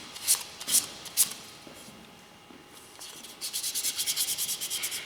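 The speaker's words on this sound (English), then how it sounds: "I'm constantly turning it to prevent sanding too much in one spot" A turned wooden workpiece is hand-sanded while being rotated, giving soft, close scratchy rubbing strokes: three separate swipes, a pause, then a quicker run of rhythmic back-and-forth strokes.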